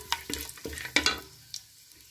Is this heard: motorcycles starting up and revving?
no